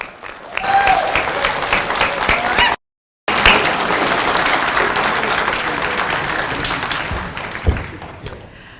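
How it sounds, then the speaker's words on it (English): Audience applause sweeps through a room at an evening event as a host is welcomed, a loud sustained wash of many hands clapping with a brief cut partway through. "Give her a round of applause"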